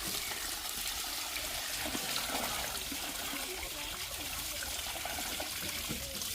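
Tap water runs steadily over vegetables being washed at a home kitchen sink, a continuous close splashing stream that holds its level throughout, with no voices.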